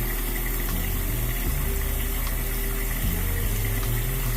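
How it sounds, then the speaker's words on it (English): Water gushing hard from a bathroom sink faucet and overflowing the basin, a loud, unbroken rushing wash close by with a low steady hum underneath and no speech. "You can see that the water is coming out faster than the overflow can even keep up."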